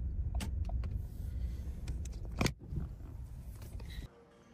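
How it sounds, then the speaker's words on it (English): Car being parked, heard as a steady low engine rumble with clicks, a brief electric-window whir and a clunk before the engine cuts and it goes quiet. "So literally just about to park the car."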